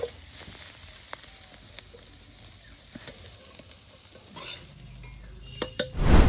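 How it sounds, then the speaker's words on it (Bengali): Tender banana stem with salt and turmeric sizzles steadily in a kadai, broken by scraping stirs and utensil clinks against the pan, with a louder clatter near the end; no one speaks. "কচি কলা গাছ কিন্তু বেশ ভালোভাবে একদম ভাজি নিয়ে"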